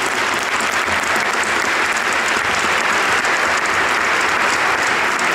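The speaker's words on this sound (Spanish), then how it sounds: "le damos un aplauso para nuestra Madre Santísima" Sustained applause from a church congregation honoring the Holy Mother at a Virgin of Guadalupe service, a dense, steady wash of many hands clapping at once throughout, with no voices.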